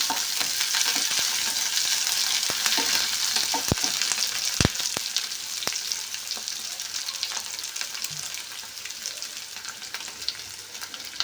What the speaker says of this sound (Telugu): ఇవన్నీ కూడా కొంచెం లో ఫ్లేమ్లో రంగు మారేంత వరకు వేయించుకుందాం